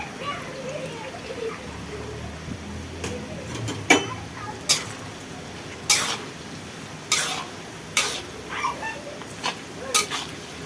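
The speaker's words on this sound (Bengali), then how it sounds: "এখানে মাংসের জন্য পেঁয়াজ ভাজছি আর এখানে বেরেস্তার পেঁয়াজ বিরিয়ানি করা হবে" Onions frying in a wok at home, some for meat and some as crispy birista for biryani, with a steady sizzle broken by repeated sharp clinks and scrapes of stirring.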